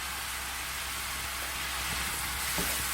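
Japchae stir-frying in a pan with soy sauce and honey, a steady soft sizzle like light rain running throughout, close and fairly quiet with a few faint clinks near the end.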